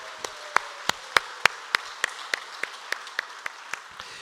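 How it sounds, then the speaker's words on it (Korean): During a Sunday worship service at a Korean church, a single pair of hands claps in a steady, evenly spaced rhythm, about a dozen sharp, close claps over soft background applause. "우리 하나님께 감사와 영광의 박수 올려드리겠습니다"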